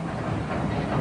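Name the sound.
Disneyland Railroad steam-powered train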